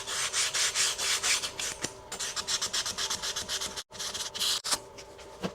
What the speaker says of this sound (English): We're going to go back over everything with some 220 grit sandpaper just to get those file marks off.